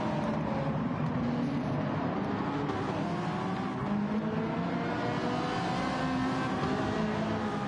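A hypercar engine in a sim racing endurance event at Daytona, a loud continuous high-revving drone with shifting harmonic whine as the car closes in and sweeps past.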